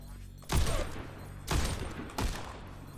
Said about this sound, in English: Rocket barrage incoming.